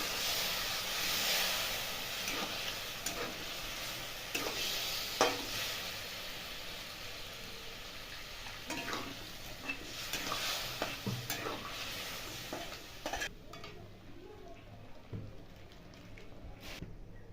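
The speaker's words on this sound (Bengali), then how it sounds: "ফুলকপিটা দিয়ে দেবো, ভালো করে কষে নেব" Cauliflower stir-fried in spice paste for cauliflower korma, a continuous hissing sizzle with repeated spatula scrapes and clinks against the pan, fading quieter toward the end.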